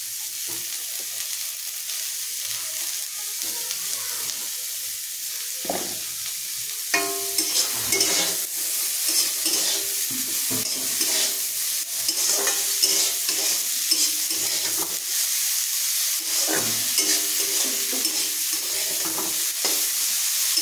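Food frying in a pan with turmeric powder and salt, a steady sizzle running throughout while a utensil scrapes and stirs in irregular bursts, close and fairly quiet, with no talking.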